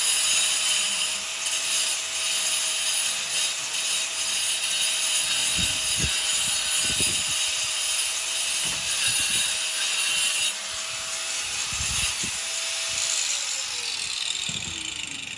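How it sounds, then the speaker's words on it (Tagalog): A stone cutter slices bathroom tiles during a lavatory installation, a loud, continuous grinding whine held for many seconds with scraping bursts as the blade bites, close by and without talk. "Ang ganda ng stone cutter natin."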